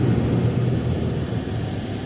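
Steady broadband road traffic rumble surrounds someone stuck in traffic, a continuous low wash of passing vehicles with no talk during the stretch.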